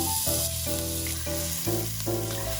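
Ground beef frying in a pan, a steady close sizzle with occasional stirring scrapes and tonal background music running beneath it throughout.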